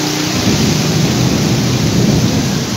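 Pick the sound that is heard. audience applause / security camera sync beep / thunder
thunder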